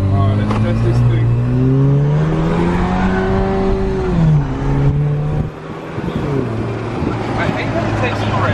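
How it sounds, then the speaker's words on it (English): A Jeep JL fitted with a newly installed Mishimoto oil catch can drives on a test run, its engine droning and rising in pitch as it accelerates, steady and close throughout, with a brief dip midway. "we definitely have to take the Jeep for a ride, right?"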